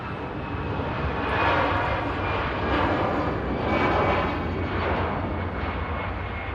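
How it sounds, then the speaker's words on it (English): Ryanair jet arriving on the southern runway at Manchester Airport, a loud, broad engine roar swelling and fading in slow waves, heard from a distance, steady across the whole stretch without talk. "Ryanair just arrived in from Rome on the southern runway as well."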